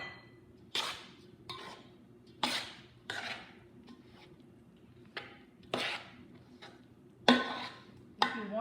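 A spoon mixing cardamom and nutmeg powder into a ladva mixture, giving a series of sharp, separate clinks and scrapes against a bowl, about a dozen at an uneven pace, close and clear with no talking.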